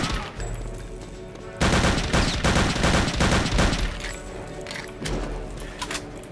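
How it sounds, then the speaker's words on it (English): Rapid MP40 submachine gun bursts from the World War II shooter game Return to Castle Wolfenstein, loud, dense automatic fire in several sustained strings with short gaps between them. "I'm gonna keep using the switch to MP40 because it's just so satisfying to use"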